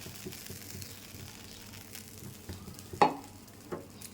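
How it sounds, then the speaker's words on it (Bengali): Tomatoes fry softly in a pan with a low steady sizzle, broken by a few scraping stirs and one sharper knock of the utensil against the pan. "আমার টমেটো ভাজা হালকা করে হয়ে গেছে, এখন তুলে নেব।"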